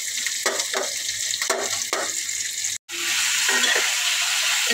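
Chicken fries with ginger, garlic and green chilies in a pan, a loud, continuous sizzle with brief bursts of stirring, a short break midway, then a steadier hiss afterward.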